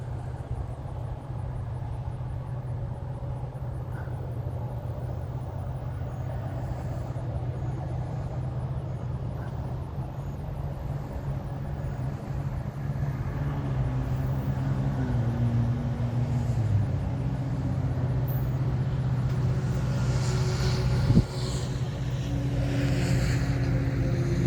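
A locomotive diesel engine idles at a train meet and then throttles up, its low rumble building gradually and steadily from a distance, with no one speaking over it.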